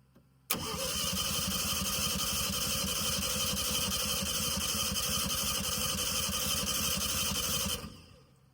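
A 1300cc VW Beetle engine with low compression cranks steadily for about seven seconds, the starter's rapid, even chugging loud and close, then stops without catching.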